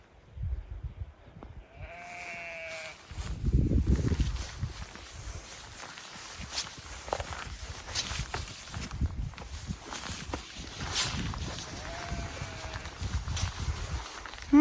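Sheep in a grassy field along the John O'Groats coastal trail in Caithness bleat a few times at a distance, short wavering calls spaced apart over wind and footsteps, with occasional louder close rustles.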